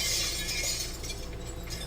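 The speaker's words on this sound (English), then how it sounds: "I heard the sound of glass breaking" Glass shatters in one bright, crashing burst that fades into a thin, lingering tinkle, heard alone in a house at night.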